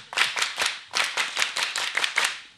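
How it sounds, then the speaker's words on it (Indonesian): A group of people clap together at a scout (Pramuka) anniversary gathering, giving several short, fairly even bursts of hand-clapping that are near and clear, with no talk over them. "Tepuk tangan."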